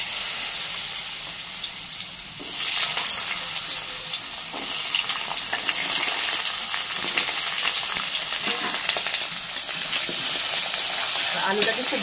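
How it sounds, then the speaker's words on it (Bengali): Diced potatoes frying in a pan for a potato curry, a steady broadband sizzle with scattered crackles and occasional stirring clatter, fairly close and continuous throughout. "আলুটাকে খুব ভালো করে ভেজে নিতে হবে।"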